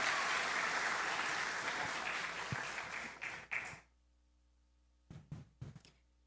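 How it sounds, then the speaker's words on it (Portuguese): Church audience applause during a family testimony, a dense round of clapping that fades out after a few seconds, followed by near silence and a couple of close, isolated thumps or claps. "Uma salva de palmas."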